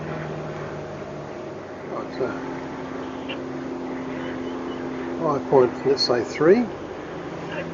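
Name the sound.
sailboat's twin engines running at low revs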